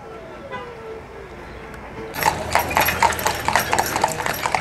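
Horse hooves clip-clop in a steady rhythm, starting about halfway through and carrying on fairly close, as a stagecoach ride rolls through a frontier village museum in Jamestown, North Dakota; quieter speech sits underneath.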